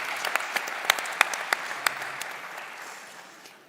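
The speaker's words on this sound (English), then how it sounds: "I would like everybody to give you a big round of applause for the hard work you've done" Audience applause at the Saudi Capital Market Forum 2023: a crowd of clapping hands with a few sharp, distinct claps standing out at first, then fading steadily into a softer, thinning patter over the last seconds.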